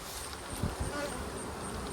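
Honey bees buzz around a hive and its honey boxes, a steady, diffuse drone close by with a few louder passes, no talking.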